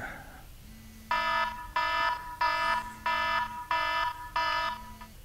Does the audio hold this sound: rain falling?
no